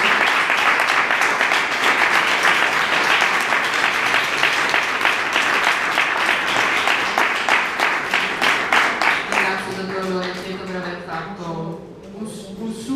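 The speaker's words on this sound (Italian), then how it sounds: "Ovviamente direi un grande applauso alla dottoressa." Steady applause fills an evening talk on ethics and artificial intelligence, many hands clapping evenly for about ten seconds before thinning out as a voice begins speaking over the last few claps.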